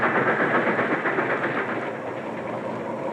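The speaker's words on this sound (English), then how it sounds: "the powerful steam engine" A steam locomotive on the Baltimore & Ohio Railroad hauls a passenger train, a loud continuous rumble and rolling roar that eases slightly toward the end.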